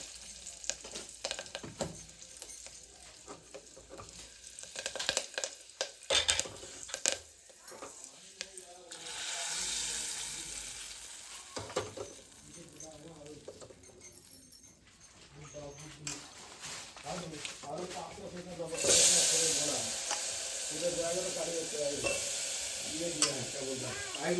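Green chillies frying in a little oil, a steady sizzle with stirring scrapes throughout, under frequent talking and a dog whimpering at times.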